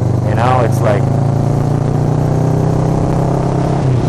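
A motorcycle engine hums at a steady idle-like drone throughout, with a brief rising rev near the start as the rider eases the throttle and clicks up a gear.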